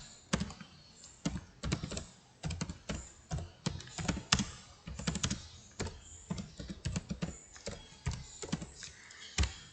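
Quick, uneven clicking of fingers typing on a computer keyboard, with irregular bursts of keystrokes and short pauses, close and fairly quiet.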